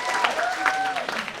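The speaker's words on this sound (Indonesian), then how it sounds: "Boleh sekali lagi dong tepuk tangannya?" An audience at the closing of a Sundanese dance revitalization workshop applauds in a brief, continuous patter of clapping. A faint whistle or tone glides through the clapping.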